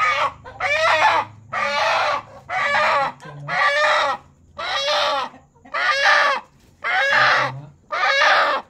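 Native chickens close by, clucking and crowing in a run of nine loud, evenly spaced calls with short pauses between, a faint low murmur underneath.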